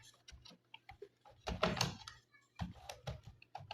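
Fingers tap out irregular bursts of keystrokes on a computer keyboard, soft and close in a quiet room, with a brief cluster of denser, louder clicks near the middle.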